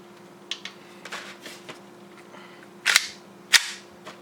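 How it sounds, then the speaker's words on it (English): Propane-powered airsoft gun fitted with a Gunsmodify V5 hammer and BBU combo, firing stock TM propane: two sharp, loud cracking shots about half a second apart, preceded by quieter clicks and handling noises. "But let's get the shooting test out of the way."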